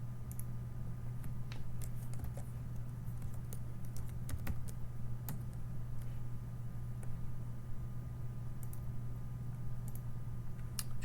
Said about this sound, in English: and I should be able to start typing